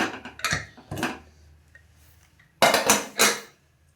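A pressure cooker lid being opened after whistling, while rice bath cooks: sharp metallic clanks and scrapes in separate bursts, two early and two louder ones near the end, with quiet gaps between.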